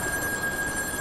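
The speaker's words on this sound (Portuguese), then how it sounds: "Telefone." A telephone rings steadily and continuously, loud and alone, during gameplay of the horror video game In Sound Mind.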